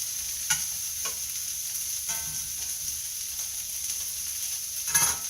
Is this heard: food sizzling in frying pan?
yes